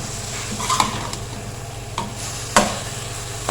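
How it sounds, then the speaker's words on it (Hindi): Ground cumin, coriander and garam masala being stirred into sizzling cauliflower curry, a steady fry under a few distinct spoon scrapes against the pan, no talk. "अच्छी तरह से इसको करेंगे मिक्स"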